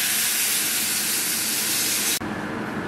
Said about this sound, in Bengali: এবার এর মধ্যে আমি দুধ অ্যাড করছি